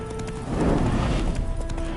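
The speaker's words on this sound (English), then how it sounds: "Spooking my horse. Roach doesn't like ghosts." In The Witcher 3, a spooked horse stamps and clatters its hooves with a surge of movement, close and loud over a low game ambience.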